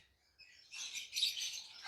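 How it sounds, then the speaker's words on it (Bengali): A pair of paper white pet birds, a fully adult breeding pair in a cage, give faint, high-pitched chirps and tweets that rise and continue in a short, fluttering burst. "আপনাদের জন্য পেপার হোয়াইটের পাখি এক জোড়া"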